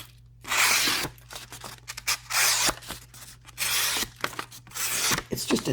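A Sanrenmu 7046 box cutter knife slices through plain paper in a run of short, crisp tearing strokes, each burst separated by brief pauses, heard close up with no talking.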